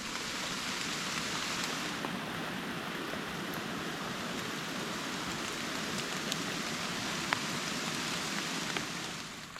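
Rain falls steadily outdoors during wild mushroom foraging, a continuous close hiss of drops with occasional sharper drip ticks and no talking.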